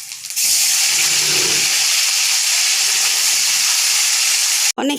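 Fish dropped into hot oil in a pan where onions, dried chilli and cumin have been frying, letting out a loud, steady sizzling hiss that runs unbroken for several seconds, then a brief clatter at the end.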